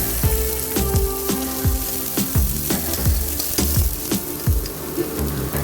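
Chopped onion hits hot oil already crackling with mustard seeds, a steady loud sizzle with repeated sharp pops and spatters, plus occasional stirring clatter, no voices.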